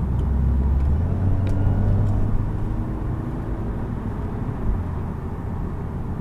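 Exhaust burble from a twin-charged 2007 VW Golf with 124,000 on the clock, heard from inside on a mountain drive: a steady close engine rumble with a brief pop-like blip in the exhaust, no talking.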